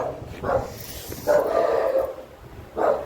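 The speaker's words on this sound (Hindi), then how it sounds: "ये किसे भौंक रहा है" A dog barks three times at irregular intervals, mid-distance, with short bursts separated by brief pauses and a low rumble of background noise.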